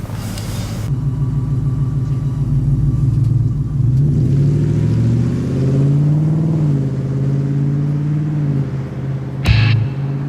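A 2018 Ford F-150 pickup with a 5.0 engine idles loudly and steadily, its low hum rising and falling slightly as it warms up, with a short sharp click near the end.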